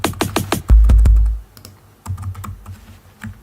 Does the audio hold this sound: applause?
no